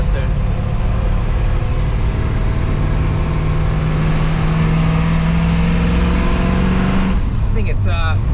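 A 1957 Chevy engine running while driving on narrow roads, a steady loud interior drone with a low hum that holds throughout before easing off near the end.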